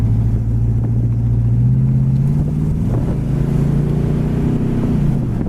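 A 1969 Buick Skylark convertible cruising down a road, its loud low engine drone shifting pitch as the car slows under braking, with wind buffeting the microphone and no talking.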